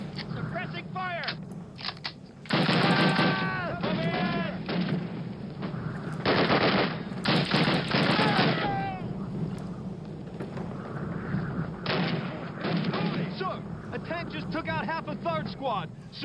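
Machine guns and artillery in a Call of Duty: United Offensive battle. Long bursts of automatic fire come in waves with heavy blasts underneath, loud and close, while soldiers shout over the din.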